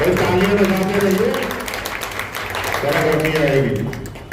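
Audience applause at a Hindi community ceremony marking Jhalkari Bai's birth anniversary, a steady wash of clapping running through the clip while someone speaks over it on a microphone.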